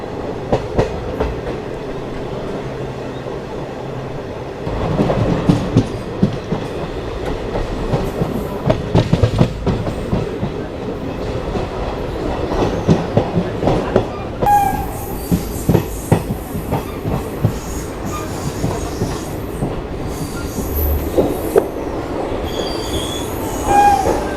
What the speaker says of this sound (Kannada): ನಾವು ಸದ್ಯಕ್ಕೆ ಚಿತ್ತೋಡ್ಗಢ ರೈಲ್ವೆ ಸ್ಟೇಷನ್ ಜಂಕ್ಷನ್ಗೆ ಅರೈವ್ ಮಾಡಿದ್ದೀವಿ